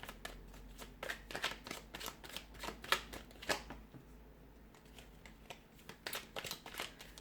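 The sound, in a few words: shuffling tarot cards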